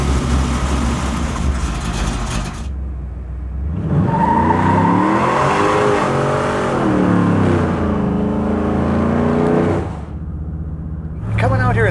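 A modified 1955 Buick with independent suspension and a Corvette rear end revs its engine, a deep rising and falling roar swelling for several seconds, with people talking before and after.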